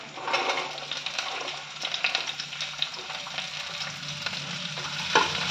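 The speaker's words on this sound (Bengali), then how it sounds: "আমি হালকা করে ভেজে নিয়েছি বিনস আর রসুনটা।" Beans and chopped garlic fry in white oil in a hot wok, giving a steady close-up sizzle with stirring scrapes and a brief sharper clatter near the end.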